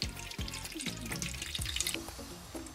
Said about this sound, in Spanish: Vamos a poner 150 mililitros de vinagre